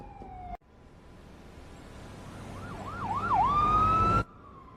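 A wailing ambulance siren sweeps up and down, growing louder as it nears, over a rumble of traffic, then cuts off abruptly.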